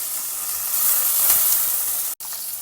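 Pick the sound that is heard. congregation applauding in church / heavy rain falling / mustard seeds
mustard seeds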